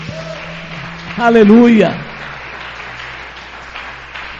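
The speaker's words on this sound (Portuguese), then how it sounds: "Aplauda o Senhor para isso" A church congregation applauds during a worship service, a dense wash of clapping that swells briefly as a voice shouts out over it, then settles back to a steady background patter.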